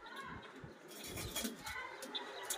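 Racing pigeons in a loft coo softly amid a steady, busy background of rustling and chatter-like ambience, the soft throaty calls blending into the continuous noise.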